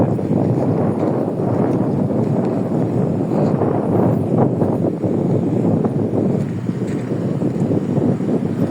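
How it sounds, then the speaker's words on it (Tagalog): Strong, warm wind in Thuwal, Saudi Arabia roars loudly and constantly against the microphone, a dense rushing blast with no pauses and no voices. "Ang lakas ng hangin. Ang hangin na medyo mainit-init."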